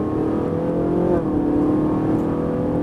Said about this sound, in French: Et on va accélérer.